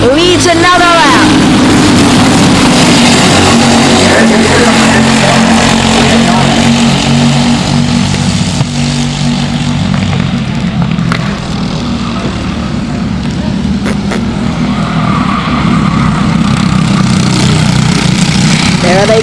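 LO206 racing kart engines during a sportsman race, a loud continuous buzzing drone from several small engines rising and falling as the karts pass, with a commentator talking over it throughout.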